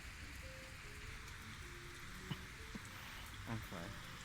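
Steady rain falling in a Metaverse roleplay video game, a soft constant patter with faint brief musical tones and a couple of small clicks over it.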